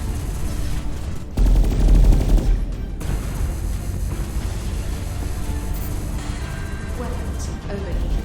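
Enemy ships fire on the player in the space combat game SpaceBourne 2, a dense, continuous barrage of blasts and rumbling impacts with a heavier burst early on, loud and close, with a voice talking over it.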